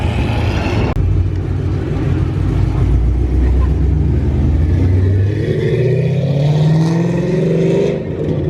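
A McLaren 570 sports car pulls away from a car show, its engine revving loudly with rising and falling pitch as it accelerates, close by and dominating, then fading slightly at the end.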